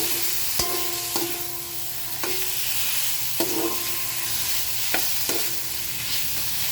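A spoon stirs laing, taro leaves in coconut milk, in a pan with a low steady simmer underneath, giving several distinct scraping and clinking strokes spaced a second or so apart, close and fairly clear, with no talking.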